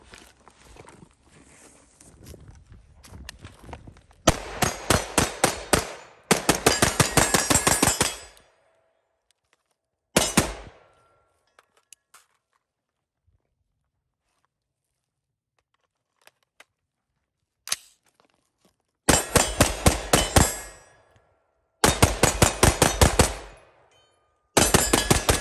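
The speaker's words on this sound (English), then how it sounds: "Definitely harder to shoot a pistol" Rapid bursts of pistol fire shot by someone wearing a MIRA Safety CM-7M gas mask, loud and close, coming in several clustered volleys of quick sharp reports separated by quiet pauses and a few isolated single shots.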